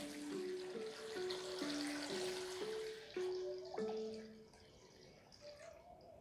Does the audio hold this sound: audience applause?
no